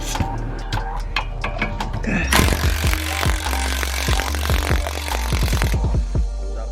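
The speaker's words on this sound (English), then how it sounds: "We're gonna start off by loosening these shock bolts right here." Impact wrench loosening old, dusty shock bolts on a Paxton-supercharged Mustang, rapid loud hammering bursts and rattling strikes, close and dominant throughout.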